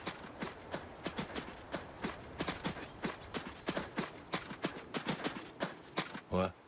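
Horse hooves clop in a steady walking rhythm in the video game Adios, faint and fairly even across the stretch, ending with a brief different thump.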